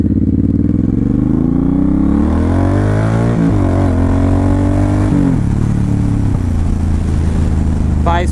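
Suzuki Boulevard M109R performance cruiser with a 1800 cc liquid-cooled shaft-drive engine, its loud, close rumble steady at first, then rising in pitch as it revs before settling back to a lower throb.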